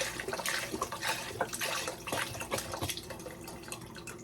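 Four cups of bone broth pour from a container into a soup pot for gluten-free chicken and wild rice soup, a steady close liquid splashing and gurgling throughout with no talking.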